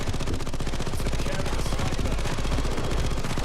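A sentry gun in the video game Payday 2 fires a continuous, rapid automatic burst, loud and steady, with tightly spaced shots throughout.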